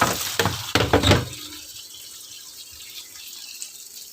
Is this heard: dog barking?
no